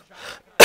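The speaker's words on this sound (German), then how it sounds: "Ganz kurz husten, dann geht's wieder." A single sharp, loud cough bursts out close to the microphone at the end, preceded by a quieter breathy throat sound, during a German-language gameplay commentary.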